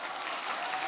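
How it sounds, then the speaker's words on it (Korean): Brief burst of audience applause from a church congregation during a Sunday worship service, dense steady clapping heard alone for under a second. "박수를 기대한 건 아닌데"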